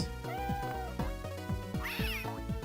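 A cat's pained meow from a Game Boy Advance game, sounded when the character jumps on the cat, rising over bouncy looping chiptune music with a steady beat; one short cry stands out near the end.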